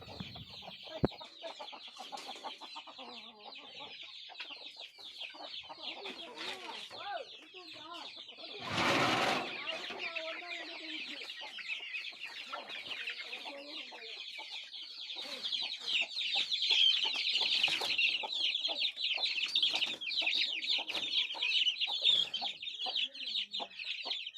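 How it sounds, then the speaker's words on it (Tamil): Many chickens cluck and squawk continuously nearby as their coop is opened in the morning, a busy flock chorus with a brief loud rustle or bang partway through. "இப்போ காலையில் முதல் வேலை கோழி பாய்ஸை திறந்து விட்டுடலாம்"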